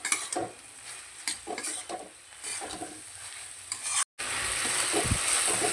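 Ridge gourd cooked soft with fried onions and chillies being stirred in a pan, a spatula scraping in short repeated strokes over a steady sizzle that continues alone, with no talk.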